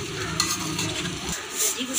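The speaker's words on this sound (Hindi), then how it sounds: "चमचे के साथ इसको हिलाएंगे।" Potatoes fry in ghee in a pan while a spoon stirs them, a close hiss of sizzling oil with scraping stir strokes, without talking.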